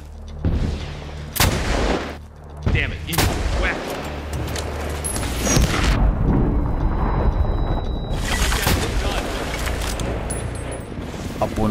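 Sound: gunfire in a video game

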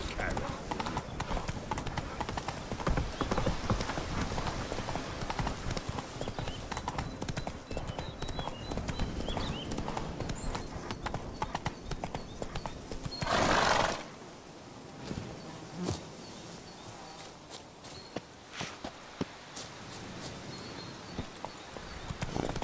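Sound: horse hooves clip-clopping, Geralt's horse Roach, The Witcher 3 video game

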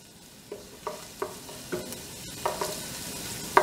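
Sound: garlic bubbling and sizzling in oil in a pot

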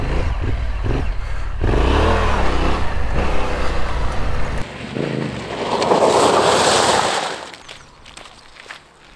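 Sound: Yamaha Tenere 700 motorcycle doing a stop turn

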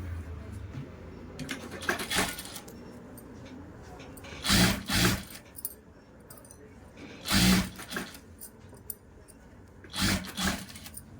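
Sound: sewing machine stitching piping on blouse neck

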